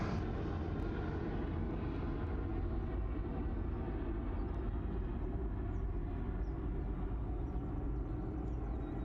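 Aircraft at Sydney Airport on a Saturday morning, a continuous deep engine roar that holds steady and loud throughout, with no talk.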